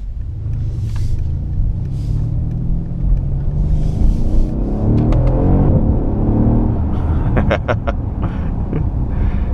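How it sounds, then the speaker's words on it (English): A 2015 Mercedes S63 AMG 4Matic engine rumbling loud and steady under acceleration, with several quick pops as the gears change up, close and continuous. "You do get a nice sound, like a popping sound when the gears are changing up"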